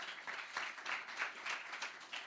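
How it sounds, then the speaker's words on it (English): An audience applauds scale-up companies at a climate scale-up deal day event, steady dense clapping from a crowd that rolls on continuously at moderate loudness without talk. "Can we get a round of applause for them?"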